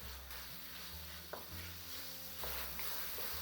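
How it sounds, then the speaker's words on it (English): Tomatoes frying in a pan over a medium flame for chicken bhuna, a steady soft sizzle with occasional stirring scrapes and clinks, close and continuous throughout. "keep frying the tomatoes on a medium flame till the tomatoes are mushy"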